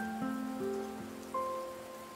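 Rain falls steadily in the video game Tower of Fantasy as a soft, constant hiss, with faint musical tones layered over it and no speech.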